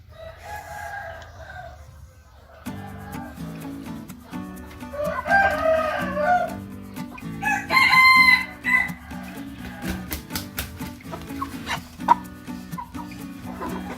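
Chicken with a cold clucking and making strained crowing calls while being given medicine, loud and close, with repeated harsh vocal bursts over a steady low hum.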